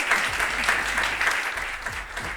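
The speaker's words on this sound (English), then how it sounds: "A big round of applause." An audience applauds panelists at a discussion on European sustainability investment, a steady wash of many hands clapping at moderate distance, with a voice faintly underneath.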